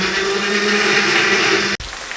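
Electric grinder whirring at a steady high pitch as it blends spice paste for Lahori chicken and chickpea curry, loud and close, then cutting off abruptly near the end with a short quieter tail.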